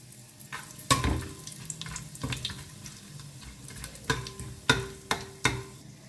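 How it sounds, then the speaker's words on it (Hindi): Bay leaves and whole spices are dropped into a hot pan and fried for a moment during prawn biryani preparation, giving clattering stirs and sharp metallic taps over a low sizzle, with no voices. "तो अब इसमें डाल देते हैं और इसे ना बस 1 सेकंड के लिए हमें भून लेना है"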